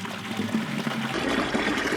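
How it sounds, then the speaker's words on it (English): Water trickles and drips from bucket nipples as the water pressure comes on, a steady, soft splashing wash that grows slightly fuller partway through, with no voices. "They're dripping right now with the pressure of the water coming on."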